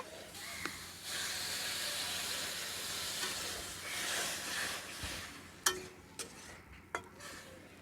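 Raw mango pieces simmer in water in a pan for chutney, a steady close hiss of steam and bubbling with a few sharp knocks of a spoon near the end.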